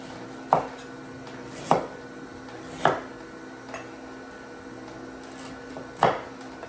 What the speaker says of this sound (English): And the ginger, I just chop into little pieces about this size.